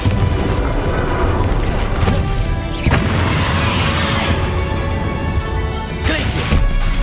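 Bombarda blasting spell from Hogwarts Legacy detonating in a duel: heavy booming crashes over a constant loud roar of combat noise, with a few sharper impacts standing out.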